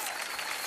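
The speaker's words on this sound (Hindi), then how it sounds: "जोरदार तालियां रानी जी के लिए।" Studio audience applause on a Hindi comedy stage show, a dense wash of clapping that stays steady and loud through the whole short burst, with no voices over it.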